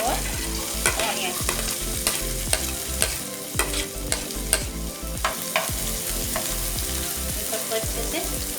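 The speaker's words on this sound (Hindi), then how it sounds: "उसी में डाल देंगे हरी मिर्च बारीक कटी और ऑनियन।" Finely chopped green chillies and onion fry over a high flame with garlic for Gobi Manchurian, a loud, close, constant sizzle broken by rhythmic stirring scrapes against the pan, with no talking.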